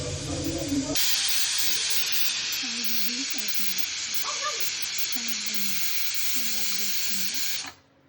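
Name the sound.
pressure cooker whistle releasing steam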